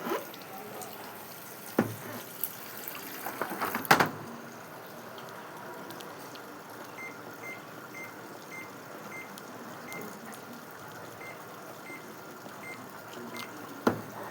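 Steady, low rushing of water filling the drum of a washing machine over 15 years old, continuous throughout, with a few clunks near the start and faint periodic beeps.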